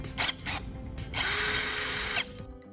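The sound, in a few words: power drill spinning a carbon rod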